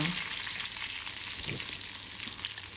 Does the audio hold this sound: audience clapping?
no